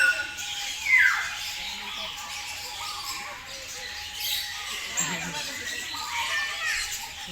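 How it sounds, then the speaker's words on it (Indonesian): Black birds squawk in a bird park in Palembang, with harsh calls at moderate distance over a busy outdoor background while people talk nearby. "Ini apa ini? Burung hitam-hitam ini."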